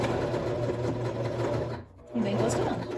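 A sewing machine stitches bias binding onto fabric with a loud, close, steady hum, briefly pausing near the middle before running on again.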